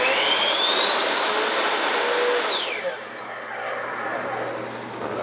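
A 70mm electric ducted fan in a scratch-built model jet whines loudly and steadily, then spools down sharply midway, leaving a softer hum.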